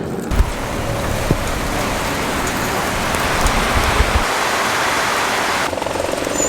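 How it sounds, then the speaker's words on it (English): Steady rain falls outdoors at an airfield, a dense, loud, even hiss with occasional soft thumps, running unbroken and with no one speaking. "Yep, starting to rain."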